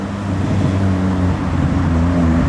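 A modified Honda Integra engine drones past on a road in traffic, a steady, loud, low rumble with shifting tonal bands lasting throughout, no talk heard.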